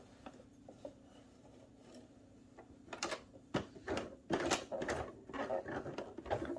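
A sewing machine stitching a sleeve, starting with faint, scattered clicks and handling noises, then running in short rattling bursts that grow louder and busier toward the end.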